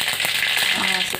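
Mustard seeds and panch phoron crackling and spluttering in hot oil for an Indian potato curry, a close, dense sizzle with sharp pops scattered throughout.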